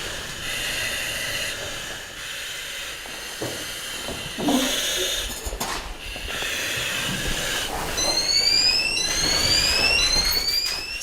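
A chemical detector alarm sounds inside an abandoned chemical weapons lab, a steady high electronic tone over hissing background noise, with sharper rising beeps joining in later.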